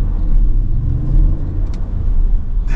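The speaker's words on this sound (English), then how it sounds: "coming from electric motors and also a sound coming from that little four-cylinder engine" A 2023 Lexus RX 500h hybrid, with a four-cylinder engine working alongside electric motors, gives a steady, close, loud engine rumble with a low hum throughout and no voices.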